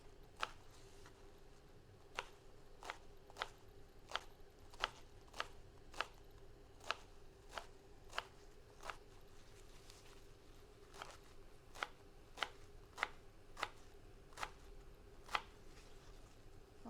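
A knife cuts rolled greens or vegetables into thin julienne strips on a board, about twenty crisp, evenly spaced taps close by against a quiet room, with no talking.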